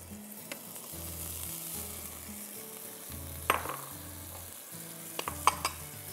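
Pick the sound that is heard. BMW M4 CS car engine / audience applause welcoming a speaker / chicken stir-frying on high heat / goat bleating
chicken stir-frying on high heat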